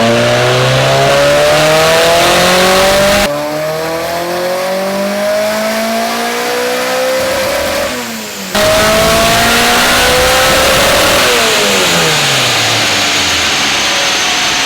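A turbocharged K-series engine in a Toyota FRS revs hard on a dyno, loud rising sweeps climbing toward redline, a brief dip between pulls, then another long, powerful climb with no talk over it.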